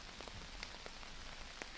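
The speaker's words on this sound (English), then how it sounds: "there was a thunderstorm and the rain is falling" Steady rain patters onto a tarp tent deep in a forest after a thunderstorm, a dense, even hiss with scattered sharper drops striking close by, with no voices.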